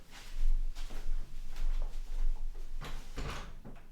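A door is opened indoors with soft bumps and rattles, then a few sharper knocks and clicks of the latch and frame near the end, all close by and fairly quiet.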